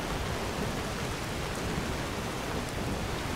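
Steady rainfall outdoors in the video game Skyrim, an even, continuous hiss of rain on surfaces that holds at constant loudness throughout, with no talking.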